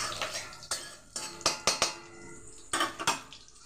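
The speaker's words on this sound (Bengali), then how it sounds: "তো এগুলো আমার ভাজা হচ্ছে" A metal spatula stirs food frying in a home kitchen pan, giving a series of sharp, irregular clanks and scrapes. A faint sizzle sits underneath, and no one speaks.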